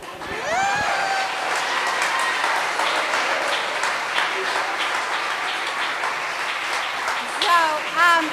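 Audience applause at a church Sunday service swells into sustained clapping from a crowd, loud and continuous for several seconds, with scattered whoops and voices over it.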